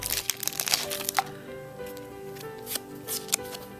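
Game cards from a Star Wars X-Wing Miniatures set are handled and shuffled close by, giving a quick run of crisp flicks, snaps and papery riffles. The sound is brief and fairly quiet, and nobody speaks.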